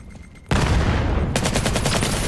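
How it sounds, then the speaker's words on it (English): Sudden burst of rapid gunfire erupts after a quiet moment, loud and sustained, like automatic rifle shots in a game. "Lots of gunshots coming out here."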